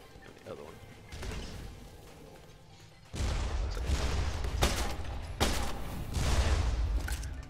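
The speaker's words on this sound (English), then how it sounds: "Try out the shotgun." Shotgun blasts in the game Immortal Redneck: three or four sharp, loud booms land in the second half, with someone talking over the action.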